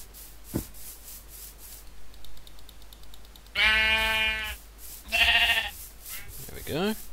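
Sheep in the video game Minecraft bleat twice in loud, buzzy calls, with a quieter third bleat, over a steady game soundtrack with soft scraping and a brief thump.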